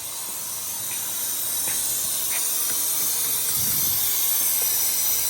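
Steady, loud hiss of compressed air feeding into the coolant system of an Audi SQ5 engine during pressurizing, continuous for several seconds with a few faint knocks and clicks underneath.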